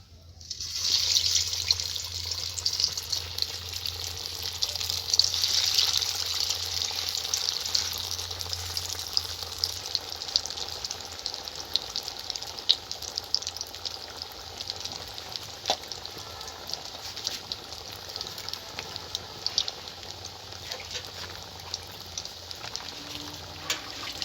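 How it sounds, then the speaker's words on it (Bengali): Kababs made without meat frying in hot oil, a steady hissing sizzle that runs on at moderate loudness throughout, alone with no talk. "তেলটা গরম হয়ে গেছে, এবার কাবাবগুলোকে আমি ভেজে নেব।"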